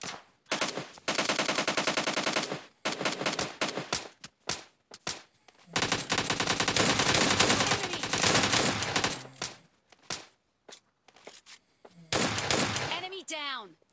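Rapid automatic gunfire from a PUBG Lite battle royale fight comes in several long, loud bursts separated by pauses, with single shots scattered between them.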